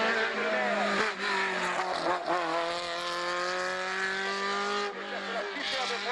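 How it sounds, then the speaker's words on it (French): The 1600 cc engine of a race car in a hillclimb screams at high revs through gear changes, loud and sustained throughout. "pour le moteur 1600 de Georges Jarlier"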